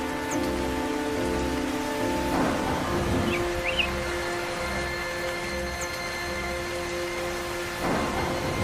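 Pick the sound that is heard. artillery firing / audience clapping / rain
rain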